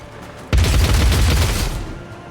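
Gunshots in Dark Heresy erupt suddenly as a loud, dense burst of rapid fire and booms that rumbles on for over a second before fading.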